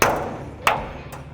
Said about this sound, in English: just center punch that guy